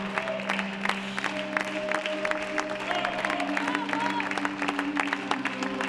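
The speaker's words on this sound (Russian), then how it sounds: "Зал вновь и вновь взрывался бурными овациями и аплодисментами." Theatre audience giving an ovation after a performance, sustained crowd clapping over a low hum, with some voices and a steady tone mixed in beneath the applause.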